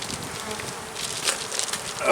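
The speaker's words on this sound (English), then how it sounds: "Bees on all 10 frames up here." Honey bees humming steadily in an open hive during an inspection, a close, continuous buzzing swarm with slight swells in intensity.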